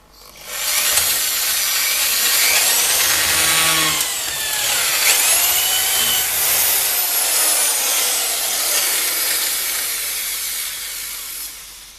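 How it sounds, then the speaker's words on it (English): A power drill bores into a wooden shovel shaft with a loud, continuous grinding whir that shifts in pitch as the bit bites, running for several seconds. "So I'm just going to see how much I can drill out of it here."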